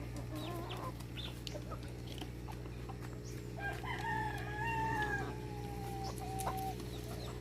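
Rhode Island Red chickens clucking in a farm coop, several birds calling close by with short clucks and a few longer drawn-out calls, alone over a steady low background hum.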